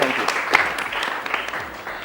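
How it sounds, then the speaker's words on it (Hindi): Studio audience claps on a TV morning show, moderately loud at first and gradually fading, with a voice speaking over the applause. "सादिया को बहुत सारी तालियां"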